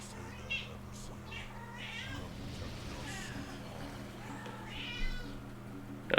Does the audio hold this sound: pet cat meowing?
yes